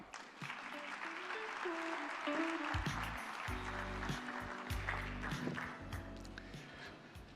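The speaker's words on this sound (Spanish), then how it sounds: "Un fuerte aplauso para Luis, por favor." An audience gives sustained applause for a speaker at a talk, a continuous clapping wash at moderate level with some crowd noise mixed in.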